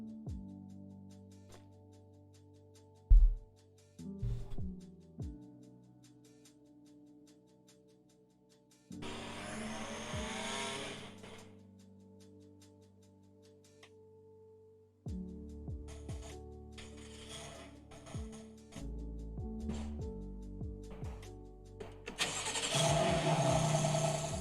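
A BMW M4's engine starts up and revs in loud bursts between quieter idling stretches, with a final swell of engine roar at the end; no one speaks.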